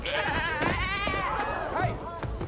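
Goats bleat in the stage musical Wicked, a run of loud, quavering, wavering cries close together, with short breaks between calls.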